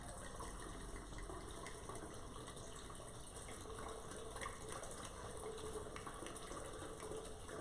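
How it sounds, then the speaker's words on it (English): Two bottles of wine pour steadily into a quick-stir pitcher, a soft continuous liquid gush held at low level throughout, with no voices over it. "So pour 2 bottles."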